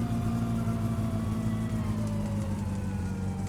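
Car engine in the My Summer Car video game holds a steady, loud mid-pitched drone near 5,000 rpm, droning on continuously without pause and with no one talking over it.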